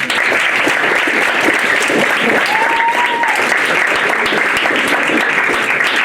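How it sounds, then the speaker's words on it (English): A sustained round of applause from an audience at a high school signing day event, steady and full with many hands clapping, and a brief whistle rising over it midway. "Let's give him a round of applause."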